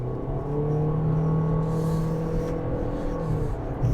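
A 2021 Toyota C-HR Limited accelerates on a test drive, heard from inside as a steady engine drone and road rumble with a slowly rising tone, moderately loud, no talk.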